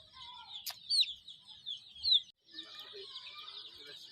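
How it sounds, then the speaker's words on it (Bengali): Kadaknath chickens on a farm make brief clucks and squawks over a steady background of bird chatter, fairly close and moderately loud, with no talking. "চলো কথা না বাড়িয়ে আজকে আমরা ফার্মটা ঘুরে দেখি করকনাথ মুরগির।"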